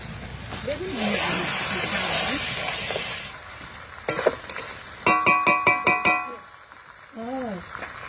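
New potatoes go into a pot of mutton that has been slow-fried in spices, setting off a loud sizzling hiss with stirring clatter and a few sharp metallic knocks, while a voice talks over parts of it.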